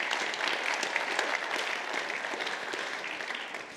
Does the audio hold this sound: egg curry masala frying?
no